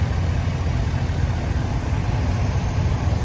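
Allis-Chalmers D17 tractor engine running at a threshing show, a steady low rumbling chug, close and continuous, with no voices.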